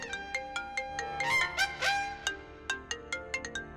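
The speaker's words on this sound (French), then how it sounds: "mais regarde ton téléphone sonne, va répondre" A phone ringtone plays a bright, repeating electronic melody with evenly spaced plucked notes, moderately loud and alone.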